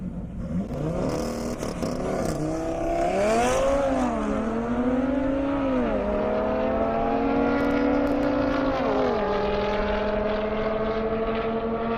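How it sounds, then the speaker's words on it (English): Drag racing car accelerating hard down a half-mile airport strip, a loud sustained engine roar climbing in pitch through several gear shifts, steady and close with no voices. "Kim in the Mustang Roush coming up."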